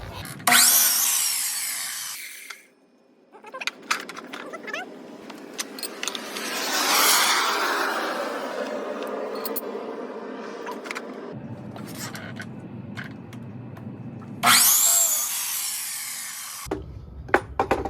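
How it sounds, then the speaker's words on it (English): A miter saw, set on the ground, cuts through wood in two loud, harsh bursts at the start and near the end. Quieter handling and knocking sounds fall between the cuts. "Now I did move the miter saw to the ground for a little bit more stability"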